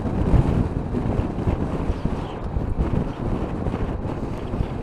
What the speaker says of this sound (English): there's a lot of wind coming off that airfield.